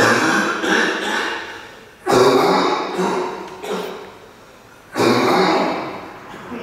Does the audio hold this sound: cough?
yes